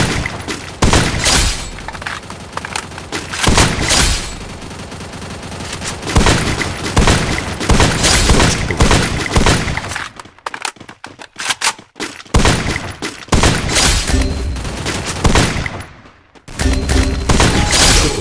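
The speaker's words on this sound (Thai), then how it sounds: "เดี๋ยวผมมายิงคนให้ดูนะครับผม" Rapid bursts of gunfire from shooting in the mobile battle-royale game Free Fire, loud and close, with dense volleys and short pauses, including a brief near-silent gap midway before the firing resumes.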